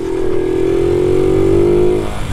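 Honda Biz motorcycle engine revving up and holding a steady high note for about two seconds, then dropping off, loud and close with no talking.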